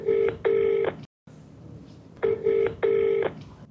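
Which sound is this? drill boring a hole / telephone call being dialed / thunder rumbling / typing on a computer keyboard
telephone call being dialed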